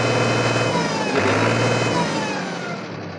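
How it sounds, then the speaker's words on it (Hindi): A 50 HP New Holland tractor engine rumbles steadily, rising briefly in pitch as it revs, then settles back to a running idle and fades slightly at the end. "चलिए आपको इस ट्रैक्टर को स्टार्ट करके साउंड नोइसेशन और आर की इन्फॉर्मेशन देते हैं"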